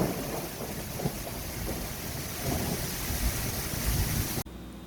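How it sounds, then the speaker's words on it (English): Heavy rain pours steadily with rolling thunder and wind buffeting the microphone during a storm that blows leaves and petals sideways, loud and continuous before cutting out abruptly near the end. "But it's storming."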